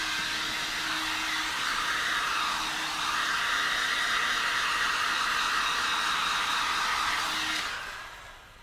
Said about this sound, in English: Always keep the heat gun moving.